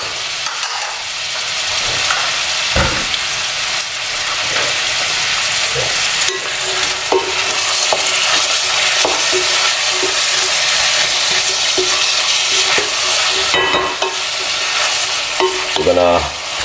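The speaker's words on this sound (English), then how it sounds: "We're gonna saute up all of this right here." Carrot, spring onion, red onion and peppers sizzle steadily in a hot pan, with a bright, continuous frying hiss and occasional scrapes and clanks of a utensil stirring the vegetables, and no talking.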